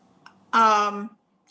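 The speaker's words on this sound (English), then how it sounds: "My doorbell is ringing." A single electronic chime-like tone rings once, steady for about half a second, surrounded by faint clicks and near-silence.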